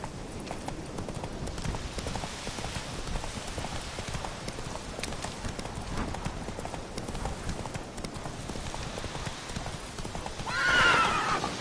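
Roach the horse in The Witcher 3 galloping with rapid rhythmic hoofbeats throughout, ending in a loud close neigh near the end.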